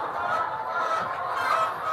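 Laying hens in a poultry farm house in Yaoundé, a dense continuous flock chatter of clucks and calls filling the space at steady moderate loudness, with no voices.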